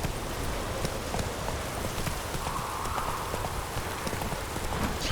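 Geralt's horse Roach galloping in The Witcher 3, a steady, fast clip-clop of hooves running continuously through the whole stretch, fairly loud over a constant hiss of ambient noise.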